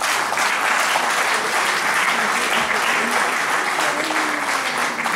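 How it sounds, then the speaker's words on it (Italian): Festival crowd applauding at a music-group festival in Rovigo, a thick, continuous roar of clapping held at a steady loud level for about five seconds, with faint voices and a tonal murmur underneath. "a cui farei ancora un applauso."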